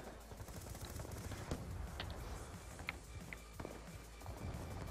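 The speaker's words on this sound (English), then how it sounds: "I see some gunfire going on over there" Distant gunfire from the Black Ops 2 video game, a sniper-only Headquarters match, crackles as scattered faint shots and short bursts over a steady broadband game background.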